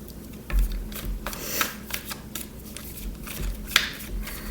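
Quick papery riffling and soft slapping of tarot cards being shuffled close by, in short irregular bursts with a few sharper snaps.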